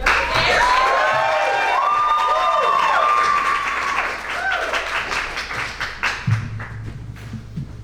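A live audience claps and cheers at a talk on the Underground Railroad Tree, spanning art, history and science. Loud, dense applause with raised voices fills the first half, then thins into scattered claps and thuds.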